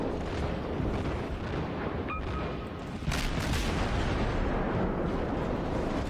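Cruiser main guns booming in World of Warships naval combat, a rolling rumble of heavy gunfire with a sharp salvo near the three-second mark, continuous low roar throughout with no talking.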